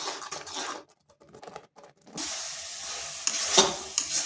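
A spoon scrapes and stirs thickening coconut barfi mixture with ghee in a hot pan, giving steady close scratching and soft sizzling with a short quieter gap partway through.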